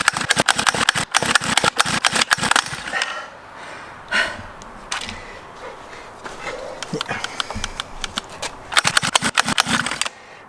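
An old motorbike that has sat for years sputters and idles in uneven, rapid popping bursts that fade and pick up again, while a dog barks nearby.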